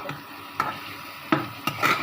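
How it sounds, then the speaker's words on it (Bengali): Turmeric fries in hot oil in a pan, giving a low continuous sizzle broken by a few soft scrapes and knocks as a spoon stirs it. "এটা হলুদটাও সুন্দর তেলের সাথে ভাজা ভাজা হয়ে যাচ্ছে।"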